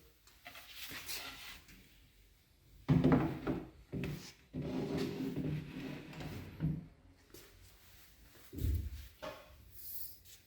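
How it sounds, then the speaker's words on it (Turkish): A wooden wardrobe shelf is fitted into place during assembly, with wooden knocks, scrapes and rubbing thuds in uneven bursts close by, strongest in the middle and near the end, with no speech. "Rafımızı monte edeceğiz şimdi son rafımız kalmıştı."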